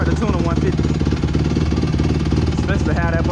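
A 2008 Honda CRF150R dirt bike engine runs loud and close with a continuous buzzing drone, under someone talking over it.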